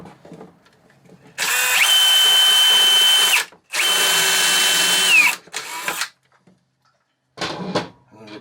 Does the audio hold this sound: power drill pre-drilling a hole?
yes